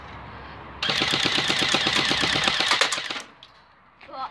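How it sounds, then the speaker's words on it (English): A two-tone budget P90 airsoft AEG fired in one rapid full-auto burst of about two seconds, a fast mechanical rattling of shots close by, followed by quiet and a faint rustle. "Now let's try and shoot them."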